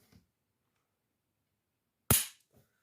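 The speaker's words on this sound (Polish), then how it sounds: "Padł suchy strzał." A Canik TP9 pistol is dry-fired: one sharp, crisp metallic click rings out alone in near silence, followed by a faint brief rustle.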